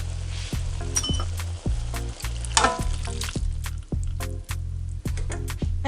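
Garlic shrimp stir fry sizzles loudly in a pan as sauce goes in, with steady frying hiss broken by repeated clicks and scrapes of stirring, close and without speech.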